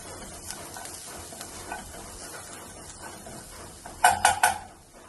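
Chopped onions sautéing in a pan for chicken Manchow soup, a steady low sizzle with faint stirring, then a quick cluster of three sharp metallic scrapes near the end.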